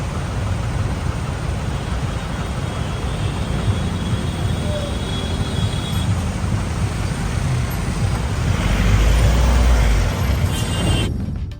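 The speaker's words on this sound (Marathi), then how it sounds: "या रस्त्यावरची प्रचंड वाहतूक कोंडी झाली होती" Heavy jammed traffic on the Chakan-Ambethan road in Khed near Pune, a steady dense roar of engines and tyres that swells slightly near the end, with no clear horn or voice standing out.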